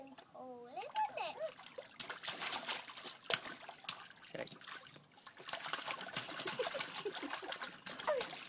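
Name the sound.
water trickling in a paddling pool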